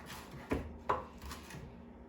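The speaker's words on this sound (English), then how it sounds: "I'm gonna chop up my cilantro." A knife chopping fresh cilantro on a cutting board, a few quiet, separate cuts about half a second apart, close and faint, with no talking.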